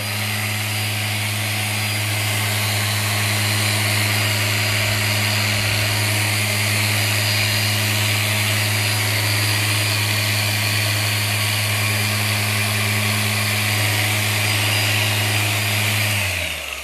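A polishing machine buffs the bodywork of a Harley-Davidson motorcycle, giving a steady, loud mechanical whir with a constant low hum that runs unbroken and close up before cutting off at the end.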